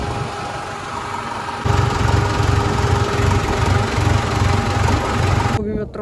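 A tractor engine chugs steadily up close, its low rhythmic throb growing louder partway through before cutting off near the end.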